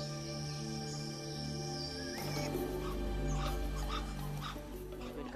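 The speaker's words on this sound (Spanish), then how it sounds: "Son los monos araña, emiten un canto similar a la voz humana." Spider monkeys in the Belize jungle by a river call with drawn-out, voice-like tones over a dense wash of forest insects and birds, the calls swelling louder and fuller about halfway through and staying close.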